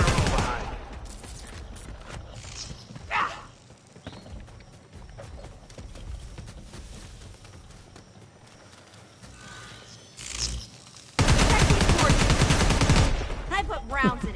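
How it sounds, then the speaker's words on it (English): Bursts of rapid gunfire in a military shooter video game, a loud dense volley near the end after quieter stretches of ambient game sound, horse hooves and scattered shots. "I put rounds in it."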